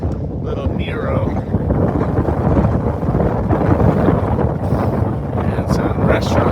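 Strong gusting wind on a mountain ridge buffets loudly and continuously, a heavy rumbling roar with brief whistling traces and muffled voices beneath it.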